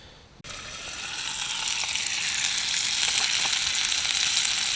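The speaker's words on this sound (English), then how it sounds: "I've got some burgers to go on, some bacon and cheese, so I'll get them on" Burgers and bacon hit a hot outdoor grill with a sudden onset of loud, steady sizzling and spitting fat that builds and holds, close and continuous with no talk.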